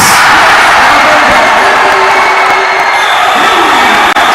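At a Delta Cup 2023 basketball game between Apalit I Love It and Ing Bayung Mexico, a loud gym crowd screams and cheers without pause, a thick, sustained roar that holds near full volume throughout.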